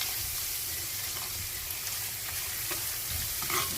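Spice tempering (vaghar) with kokum sizzles and fries in a hot pan on a gas stove, a steady, close, continuous crackling hiss that runs throughout with no voices.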